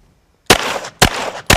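Three loud, sharp handgun shots are fired during practical shooting drills, each a hard crack followed by a brief ringing tail, with uneven splits between them and no talking.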